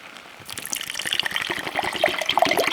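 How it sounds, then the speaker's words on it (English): Water gushes and splashes from a container into a Russian MRE drink mix, a steady close pour that builds in strength over a few seconds with no talking. "Add some water, see what this is gonna look like."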